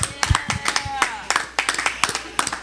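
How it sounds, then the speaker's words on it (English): A few people clap for the winner at a trivia show, with sparse, close, uneven claps and some talking under them. "Give him a big round of applause."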